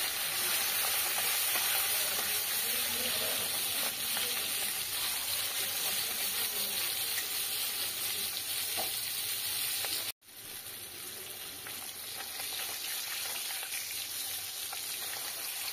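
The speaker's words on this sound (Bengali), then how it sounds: "এবার এক এক করে মাছগুলো কড়াইতে দিয়ে দেবো।" Tangra fish rubbed with salt and turmeric frying in oil in a kadai: a dense, continuous hissing sizzle up close, broken by one short gap before it resumes slightly quieter.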